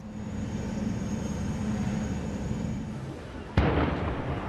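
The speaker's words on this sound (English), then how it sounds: "We're also getting explosions now." A sudden loud explosion during the Paris attacks cuts through steady low rumbling noise, followed by a sustained roaring wash of sound.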